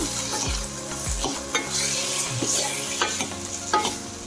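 Chori beans and potato pieces for a Gujarati shaak are stirred and mixed in a pan, giving repeated close scraping and clattering strokes over a continuous frying sizzle, with no speech.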